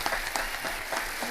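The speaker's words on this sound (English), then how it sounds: "Clap it up, clap it up," An audience at a motivational team event claps along in a quick, even rhythm, about five distinct claps in a short burst, fairly close and clear.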